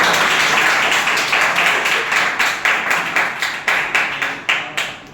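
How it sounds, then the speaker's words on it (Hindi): An audience claps for a madam, a loud, fairly rhythmic round of applause that thins into distinct, spaced hand claps toward the end. "तो एक बार जोरदार तालियां मैडम के लिए।"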